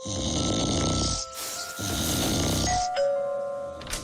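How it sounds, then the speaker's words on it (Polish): Loud, rhythmic snoring from a man, two long rasping breaths in a row, with a bright chime-like tone and faint music in the background, set in a Polish TV commercial for an anti-snoring product. "Dochodzą mnie słuchy, że pani mąż chrapie jak niedźwiedź."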